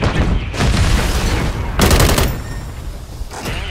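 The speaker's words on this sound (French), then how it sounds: "Je lance une grenade." Rapid bursts of gunfire with a sharp explosion-like boom midway, loud and dense throughout, from a Call of Duty firefight with a thrown grenade.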